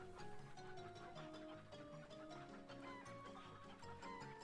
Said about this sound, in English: Cursed chicken!